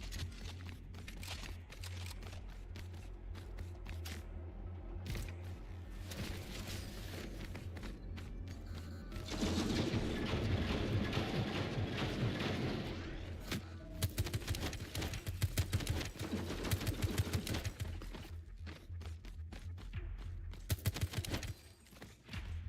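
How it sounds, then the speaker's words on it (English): Rapid SMG gunfire in the action shooter Metal Eden, dense bursts of loud shots layered with game effects and explosions, running continuously with a heavier stretch near the middle. "This sounds way too loud to be an SMG."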